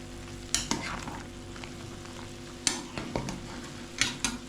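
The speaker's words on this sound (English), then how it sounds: "Put fresh pepper, then you turn it together." Fresh pepper being stirred into plantain pepper soup with cow meat frying in a pot, a steady close sizzle with occasional scraping clicks of the spoon against the pot.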